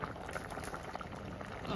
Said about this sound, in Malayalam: നമ്മുടെ മീൻകറി തിളച്ച് തുടങ്ങിയിട്ടുണ്ട്